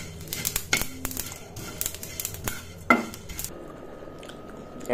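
Roasted fennel seeds are stirred in a hot pan after the heat is turned off, giving a series of sharp metallic scrapes and clinks of utensil against the pan at an irregular pace.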